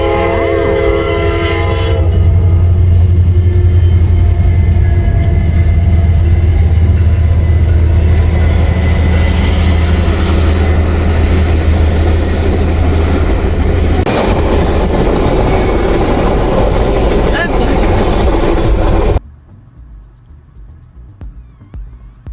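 A Princess Tours passenger train hauled by four locomotives rolls past close by, a long loud rumbling roar with horn blasts near the start, continuing steadily before cutting off abruptly near the end.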